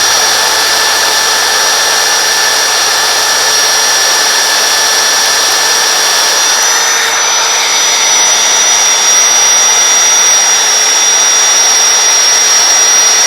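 Matco HyperStep step drill bit cutting into metal, a loud continuous high-pitched whine and grinding that holds steady throughout with no talking.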